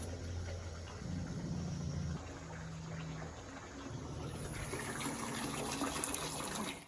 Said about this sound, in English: It's just draining really slow.